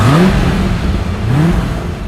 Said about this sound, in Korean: 절대로 포기할 수 없는 게 바로 가변배기 머플러 사운드죠